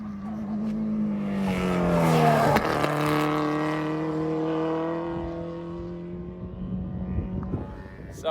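A racing car, its engine note loud and near, dropping in pitch through heavy braking into a chicane, then holding a steady drone before accelerating away, with a faint click near the end.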